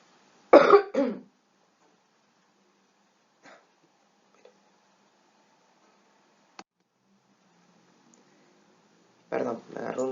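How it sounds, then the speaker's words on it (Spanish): A Spanish-speaking lecturer in a sociology talk breaks into coughing: a close cluster of harsh coughs at the start, near-silence with faint clicks, then another burst of coughs at the end. "me agarró un acceso de tos"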